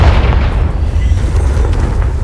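A Confringo blasting spell in Hogwarts Legacy erupts as a loud, sustained explosive boom with a heavy low rumble that stays dense for about two seconds without fading.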